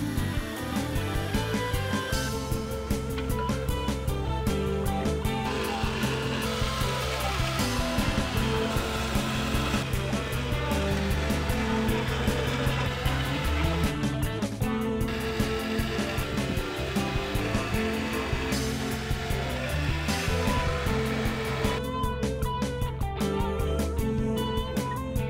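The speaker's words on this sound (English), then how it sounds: "One of the drills is set up with a countersink bit, and the other with the bit I need to drive the screws." Power drills, one fitted with a countersink bit and one driving screws, work on a cedar Adirondack chair, whirring loudly and almost continuously with repeated bursts and pauses.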